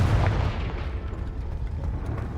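A Confringo spell explosion in the video game Hogwarts Legacy bursts with a loud, booming blast at the start, then rumbles and crackles on as a sustained fiery roar that fades only slightly.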